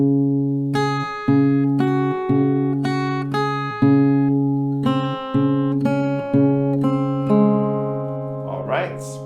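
An acoustic guitar picks a song's pattern slowly, single plucked notes ringing out in a steady, unhurried rhythm, close and clear, with a brief voice-like murmur at the very end.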